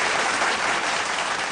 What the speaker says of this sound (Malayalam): അതിനൊരു കൈയടി കൊടുക്കണം.